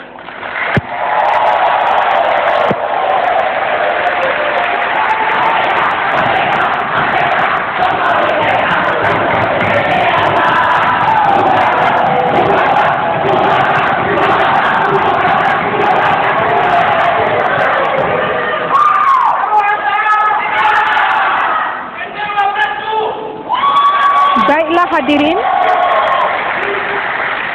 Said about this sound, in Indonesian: saya persilakan untuk memberikan aplaus yang meriah